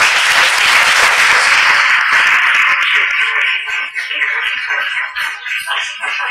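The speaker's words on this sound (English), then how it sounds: "I think we owe a large hand of applause to our speakers, Halina Parafianowicz, Bernard Patino." Audience applause for speakers at a history lecture symposium, loud and dense at first, then thinning out into scattered claps and rustling.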